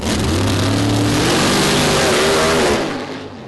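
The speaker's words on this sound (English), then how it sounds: "Well, Andy spins the tyres off the line" A loud, close engine roar with revving pitch rising as a drag race car launches hard off the line at Santa Pod Raceway, tyres spinning, then the sound fades away slightly.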